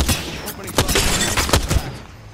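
Rapid gunfire in the video game Apex Legends, a close burst of sharp shots with a few heavier thuds, tapering off at the end.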